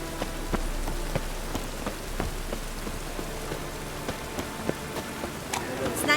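Steady rain patters on surfaces in The Witcher 3: Wild Hunt, with scattered heavier drops tapping close by over a constant wash of rainfall.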